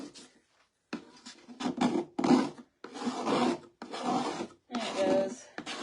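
Scraper dragging paste across a surface in several separate rasping strokes with short pauses between them, close and fairly quiet.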